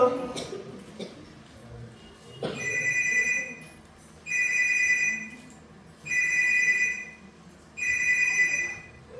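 A telephone bell rings indoors in four long, evenly spaced bursts after a few brief knocks and a short voice at the start.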